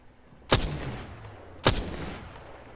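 Two loud, sharp gunshots ring out about a second apart in the video game Apex Legends, each followed by a short booming tail, with no talk over them.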